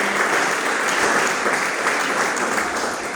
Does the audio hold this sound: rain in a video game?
no